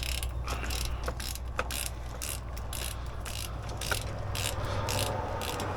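A ratchet with a 17 mm socket works on a C4 Corvette engine, giving repeated sharp, close clicking strokes in a steady rhythm over several seconds.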